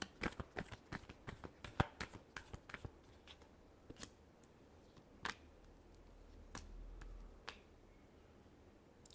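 Tarot cards shuffled by hand, heard as a quick run of crisp close riffling snaps and flicks that thin out into a few sparse clicks over a faint background, with no talk.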